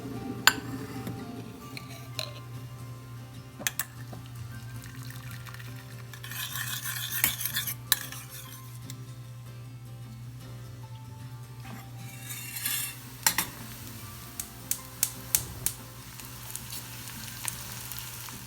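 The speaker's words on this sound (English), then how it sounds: "Into heated ghee, added few shallots and garlic chopped, and then let it turn golden brown." Chopped shallots and garlic sizzle softly in hot ghee in a pan, a low steady fry broken by scattered clinks and scrapes of a stirring utensil.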